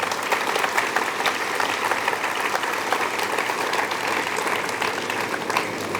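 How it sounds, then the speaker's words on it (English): Sustained applause from a sizable crowd at an indoor awards night, dense clapping that holds steady for several seconds without speech. "They deserve a big round of applause."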